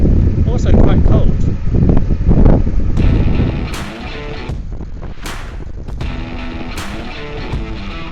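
Strong wind on an open river buffets the microphone aboard a narrowboat in heavy gusts at first, then eases as a voice talks over a softer, breezy background.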